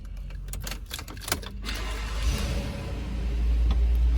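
A few mechanical clicks and rattles, then a 2019 Chevrolet Silverado pickup engine catches and settles into a low, steady rumbling idle that swells slightly.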